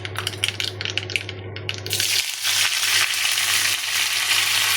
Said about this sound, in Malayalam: നമ്മുടെ കടുക് എല്ലാതും പൊട്ടി തുടങ്ങിയിട്ട് കേട്ടോ. ഇതിലേക്ക് നമുക്ക് കുറച്ച് കറിവേപ്പിലയും ഒരു 3-4 വറ്റൽമുളകും ചേർത്ത് കൊടുക്കാം